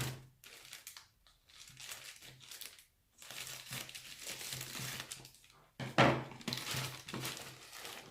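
Plastic-wrapped clamshell packaging from a K-beauty order being opened: close crinkling and crackling plastic in bursts separated by short pauses, with a few sharper snaps and cracks.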